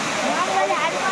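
Water pouring down Ashok Jhar waterfall makes a steady, broad rushing hiss that runs the whole moment, with people's voices talking over it.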